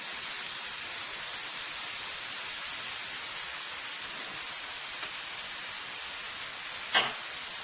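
Garlic and seasoning sizzling in a hot pan, a continuous bright hiss with a faint crackle and a single sharp pop near the end, with no voices.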